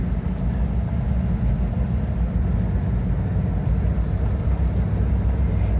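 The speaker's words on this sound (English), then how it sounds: "there's a slight unevenness in the engine at this speed" A 1960 Humber Super Snipe engine running at speed on an open road, a steady low rumbling drone with road noise, continuous and fairly loud from the car interior.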